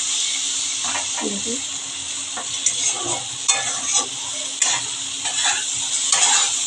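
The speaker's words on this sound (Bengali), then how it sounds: "দু থেকে তিন মিনিট মশলাটা কষিয়ে ফিরে যাচ্ছে দেখুন মশলা কিন্তু আমার কষে গেছে" Bengali fish curry masala for bhangar fish sautéed in oil in a wok-like kadai, a loud bright sizzle with repeated spatula scrapes and clinks against the pan, close up, with a faint voice in the background.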